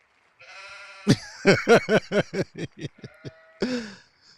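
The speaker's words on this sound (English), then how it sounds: "What did the sheep say?" Sheep bleating sound effect: a series of about nine wavering, rhythmic bleats, then one final longer bleat, loud and close with no talking.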